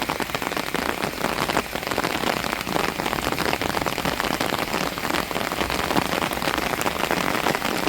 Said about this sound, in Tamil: மறுபடியும் அடித்து ஊற்றுது பாருங்க மழை.